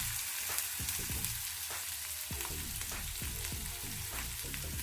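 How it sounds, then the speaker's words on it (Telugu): Chopped garlic and fine ginger pieces frying in oil for dal, a steady close hiss with a busy crackle and regular scraping stirs, no talking. "ఇవన్నీ వేసి కొంచెం దూరగా మనము వేయించుకోవాలి."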